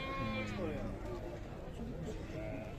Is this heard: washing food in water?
no